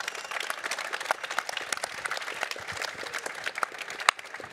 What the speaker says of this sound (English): Round of applause to you, Georg.